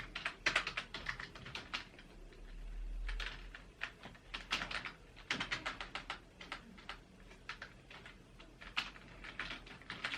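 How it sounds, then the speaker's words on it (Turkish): Rapid, uneven clatter of keystrokes on a computer keyboard during poster design work in Photoshop, close and clear, with short pauses between bursts of typing over a low background hum. "Hemen buraya yazıyorum."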